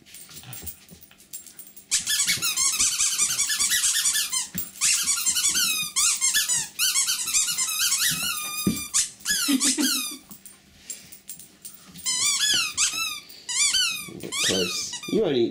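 A terrier chews a squeaky tennis-ball-like toy, producing rapid, loud, close bursts of high squeaks in clusters, with short pauses and a few low growls between.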